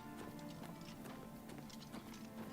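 Horse hooves clip-clop in the video game Oblivion, a faint, quick run of uneven clacks repeating over a hushed background.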